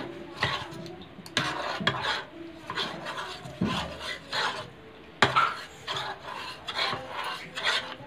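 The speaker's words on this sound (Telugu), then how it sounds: "వేసుకొని ఇందులో ఎటువంటి గడ్డలు లేకుండా నీట్గా మిక్స్ చేసుకోవాలి." Digestive biscuit cake batter, biscuit crumbs with four spoons of flour, being mixed smooth in a bowl, giving repeated close scraping, rasping strokes against the bowl in an uneven rhythm, with no voices.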